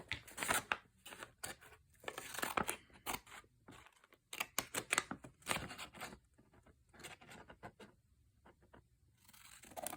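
Scissors snip through paper while folding envelopes by hand, quiet crisp cuts in irregular bursts of short snips separated by brief pauses, close by and alone.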